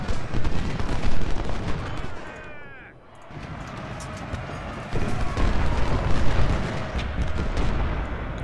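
Loud, dense volleys of musket and artillery fire in a Civil War battle in the strategy game Ultimate General: Civil War, with sustained booming crackle, a brief dip, then renewed heavy firing.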